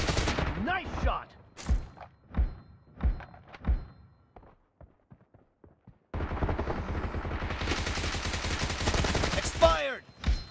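Gunfire in the video game PUBG during a team deathmatch: several single shots at first, then a sustained rapid automatic burst after a short pause, close and loud with brief voices mixed in.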